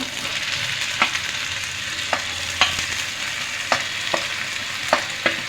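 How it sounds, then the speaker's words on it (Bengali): Pui shak (Malabar spinach) sizzling in a hot pan while being stirred, a constant frying hiss broken by about nine sharp scrapes and clinks of the spoon against the pan, with no voices. "এটাকে একটু ভালো করে নাড়াচাড়া দিয়ে আবার একটু ভেজে নিব"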